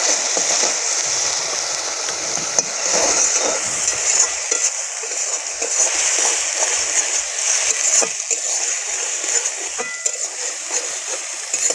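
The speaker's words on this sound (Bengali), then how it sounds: "পেঁয়াজটা আমরা সুন্দর করে ভেজে নেব।" Onions frying in a pan while cooking a spicy small-fish curry, giving a steady close hiss and sizzle with occasional stirring scrapes throughout.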